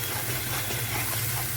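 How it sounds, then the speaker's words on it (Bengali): Cashew-based masala for paneer masala is stirred in a pan over a low flame, giving a steady, close hiss and soft sizzle with no talking. "এতে যেহেতু কাজু আছে তাই তলায় লেগে যাওয়ার সম্ভাবনা বেশি, তাই নাড়তে থাকতে হবে থেকে থেকে"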